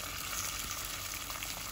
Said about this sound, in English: I'm actually frying it along with the oil